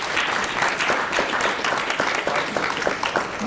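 Audience applause fills a hall during a talk on saving lives with naloxone, a steady wash of many hands clapping at even loudness with no voices over it.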